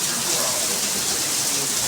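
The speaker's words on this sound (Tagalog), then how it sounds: "Ulan sa labas." Rain falling outside, a dense continuous patter of drops striking surfaces, close and steady throughout.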